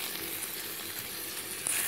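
Tomatoes frying and being stirred in a hot pan for a bone curry, a close, bright, continuous sizzle lasting a couple of seconds with no talking.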